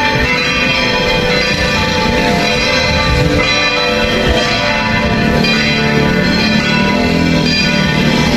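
Church bells ring loud and continuous at the Antipolo church in Rizal, their overlapping tolls filling the air without a break and with no one talking.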